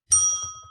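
The Bladtcast 100 bell gives a single bright ding, struck close and loud, its clear metallic tone ringing on and slowly fading with no voices over it.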